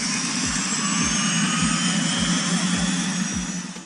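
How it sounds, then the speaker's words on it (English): The MTT Turbine Superbike Y2K, a motorcycle built around a helicopter turbine engine, gives off a loud, steady high-pitched jet whine with a low rumble, plus a faint repeating thump beneath it. "the MTT Turbine Superbike Y2K, a machine that answered the question, what happens when you strap a helicopter engine to two wheels?"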